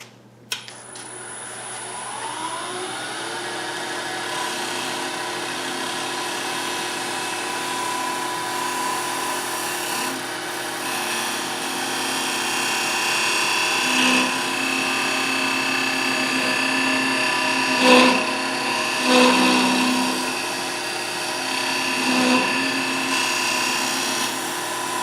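A wood lathe spinning a segmented bowl while a gouge makes a pull cut: a steady motor whine with a sustained cutting hiss that swells and dips in a few louder bursts, close and without talk.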